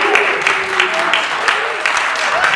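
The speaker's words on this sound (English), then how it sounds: "y'all clap every single time" A church congregation at a Sunday service claps in a steady run of applause. A speaker's voice rises over the clapping in places.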